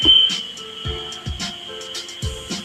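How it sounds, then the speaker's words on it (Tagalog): A cricket chirps in shrill, evenly spaced bursts heard through a phone line during a radio call-in, a high steady tone pulsing about once a second over faint background hiss. "Ano yung matinis na rin naririnig ko? Baka kuliglig po yun."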